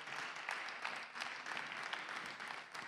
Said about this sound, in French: D'applaudissements bien mérités